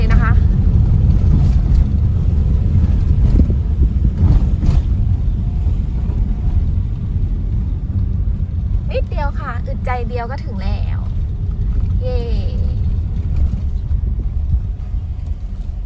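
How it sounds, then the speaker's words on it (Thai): Yamaha Fino scooter engine revving hard in low gear while climbing uphill, a steady loud rumbling drone throughout with wind buffeting, and someone talking over it in the second half. "ใช้เกียร์ต่ำแล้วเร่ง ต่ำแล้วเร่งเครื่อง"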